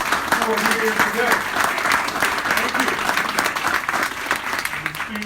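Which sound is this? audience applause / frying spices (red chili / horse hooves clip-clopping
audience applause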